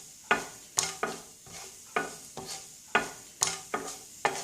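A spatula stirs onion, green chilies and ginger in a hot pan, giving about nine sharp, evenly spaced scrapes and clacks over a faint sizzle, close up, with no talking.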